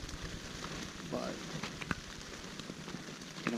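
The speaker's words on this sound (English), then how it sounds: "The rain continues, the wind continues." Steady rain, with wind, falls on a backcountry trail shelter and tent during a rainy day. A dense, even patter continues throughout with occasional louder drips and faint knocks.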